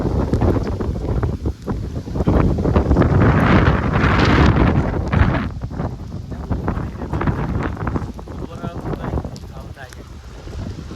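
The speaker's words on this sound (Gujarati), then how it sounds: "જોરદાર પવન ઉડ્યો છે" Strong cyclone wind gusts in Gujarat, a loud, continuous roar buffeting the microphone, swelling and easing in waves over the whole stretch.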